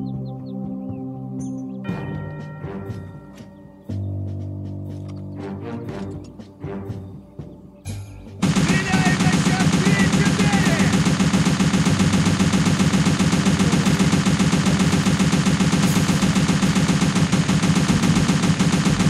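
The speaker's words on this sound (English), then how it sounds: "use a machine gun to hit the targets" Heavy infantry machine gun fire in the Faces of War war game: scattered single shots and bursts at first, then a sustained loud, dense roar of continuous automatic fire for the remaining ten seconds.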